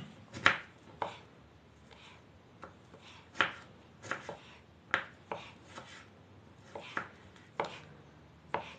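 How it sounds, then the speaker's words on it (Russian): A knife chops vegetables finely on a cutting board for okroshka, a cold kvass soup: about a dozen sharp, close taps at an uneven pace with short pauses between, each one crisp and brief in a quiet room. "Хорошо, все, режу мелко."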